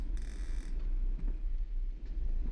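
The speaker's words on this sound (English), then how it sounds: "Something's creaking open somewhere" Something creaking open in the horror video game Veiled: a drawn-out creak followed by a few faint mechanical knocks over a low, droning ambience, with no talking.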